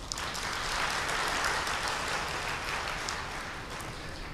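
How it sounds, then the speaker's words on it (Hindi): An audience at a spiritual assembly claps together in a steady, moderately faint burst of applause that fades slightly toward the end. "एक बार तालियां बजाओ जरा"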